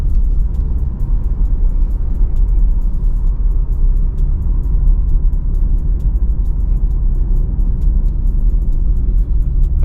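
Steady low engine rumble and road drone from inside a 2023 BMW M3 while driving, constant and fairly loud with no talk.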